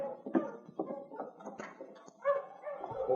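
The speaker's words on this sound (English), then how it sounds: "they heard a dog team approaching" A sled dog team approaching a cabin in the Yukon, a burst of excited barks and yips near and clear, rising and falling across the moment with no talk over it.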